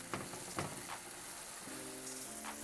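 Tortillas frying in oil in a pan for red cheese enchiladas, a quiet continuous sizzle broken by a few soft pops and crackles, with no talking.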